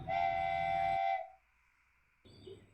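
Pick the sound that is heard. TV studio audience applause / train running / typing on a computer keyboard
train running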